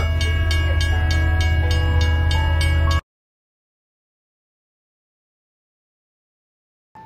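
A train rumbles past loudly with a rhythmic clacking of wheels over rail joints, then the sound cuts off abruptly into silence.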